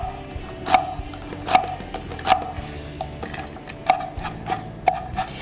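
A knife chops onions on a cutting board for vegan dumpling filling, with about seven distinct knocks at an uneven, unhurried pace, close and clear over a low background hum.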